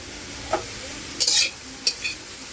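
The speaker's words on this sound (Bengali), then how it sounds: "কানাই শাকটা কেটে নিয়েছি এখন তেলে নিব" Chopped kanai greens (nil kandul) being stirred in hot oil in a pan, with a low background sizzle broken by a few sharp scraping and clattering bursts of the spatula.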